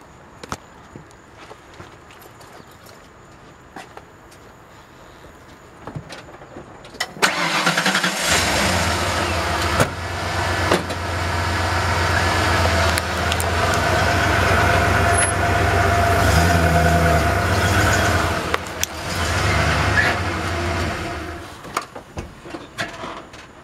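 A 1996 Ford F-150 pickup truck engine starts up and runs loud and close for about fifteen seconds, with a steady low rumble as the truck rolls forward over a wallet in front of the tire, then cuts off.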